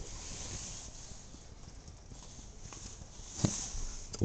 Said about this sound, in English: The water running off my roof.